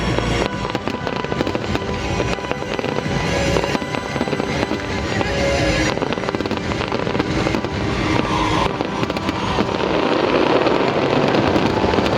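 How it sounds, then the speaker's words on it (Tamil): New Year fireworks over the UAE crackle and boom continuously, a dense loud barrage of bursts and pops with rumbling echoes filling the entire stretch, heard from a nearby vantage without talking. "நீங்களும் என் கூட இந்த ஃபயர் ஒர்க்ஸை என்ஜாய் பண்ணுவீங்கன்னு நினைக்கிறேன்."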